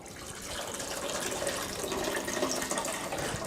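Cold filtered water pours steadily into a coffee maker's reservoir, a continuous close splashing trickle that holds even for a few seconds with no talking.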